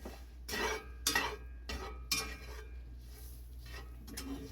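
A utensil stirs sausage and flour through hot grease in a pan, giving a few soft scrapes and light clinks against the metal at close range over a quiet background.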